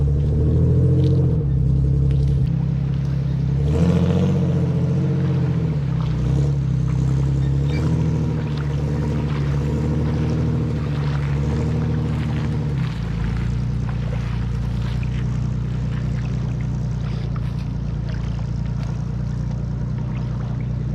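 A vehicle engine rumbles and revs hard while a Chevy Colorado is pulled from thick, sticky mud among reeds at Sand Hollow; a loud, continuous low drone with rising and falling rev surges and no talk.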